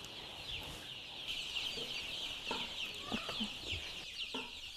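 A brooding flock of farm chickens clucks continuously, with many overlapping bird calls and some scattered knocks and rustles.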